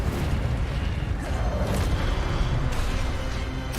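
An Incendio fire spell cast in the Hogwarts Legacy video game lands as a deep, booming burst with a whooshing, crackling roar. It stays loud and dense for the whole few seconds.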